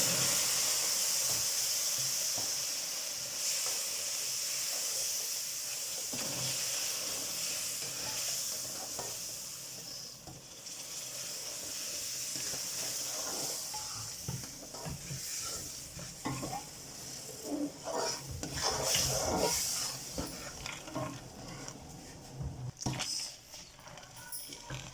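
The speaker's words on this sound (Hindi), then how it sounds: "तो अब हम इसमें शीरा शामिल कर देंगे।" Sugar syrup poured into golden roasted semolina halwa made with desi ghee, a steady loud sizzling hiss with stirring scrapes throughout, bursts of bubbling and spatter swelling midway and toward the end, no talk.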